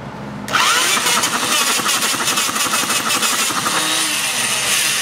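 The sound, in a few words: Mini Hog 69 engine starting and firing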